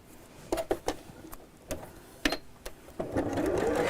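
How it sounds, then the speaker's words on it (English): A sewing machine stitches fabric pieces into a tube with a quarter-inch seam, short bursts of whirring and clicks starting and stopping, then a longer steady run at the end. "So we'll sew all these together into a tube."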